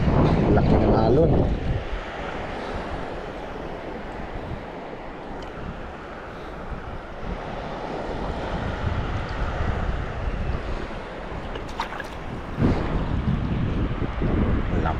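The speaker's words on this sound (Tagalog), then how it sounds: "laki ng alon." Big ocean waves breaking at low tide on the shore at Sitio Tinagisan, San Francisco, Quezon, a steady broadband wash with a louder surge at the start and near the end, mixed with wind buffeting the microphone.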